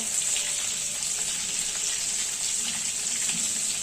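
Amul butter melts and sizzles in a hot pan while cooking hotel-style paneer Hyderabadi, giving a steady, close, bubbling crackle throughout with no voices.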